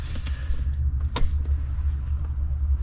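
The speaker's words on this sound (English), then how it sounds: "So I'm going to start the car up now so you can just see that it idles." A VW Lupo with a 20VT engine idling after a start, a low steady rumbling drone with a few faint clicks on top, close and continuous with no talk.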